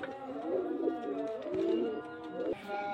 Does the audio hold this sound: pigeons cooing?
yes